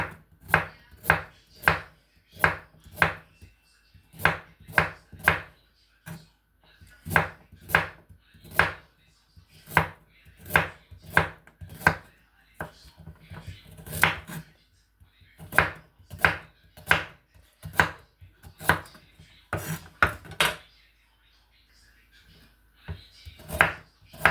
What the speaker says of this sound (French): Là, j'ai 3 carottes que je vais découper en rondelles.